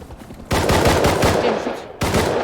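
Rapid automatic gunfire bursts in the Rust survival video game, a dense loud volley after a quiet start, then a second burst near the end; a patrolling helicopter is involved but its rotor is not distinctly separable from the shooting.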